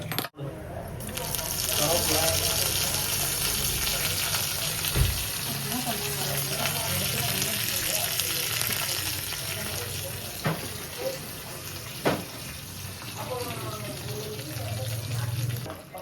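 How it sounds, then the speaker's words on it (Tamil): Steady crackling sizzle of mustard seeds spattering in hot oil for tempering chayote chutney, continuous through the clip, with a few sharp pops and faint kitchen clatter. "கடுகு எண்ணெய் கடுகு ஒரு பில்லியாக போட்டு தாளிக்கிறாங்க"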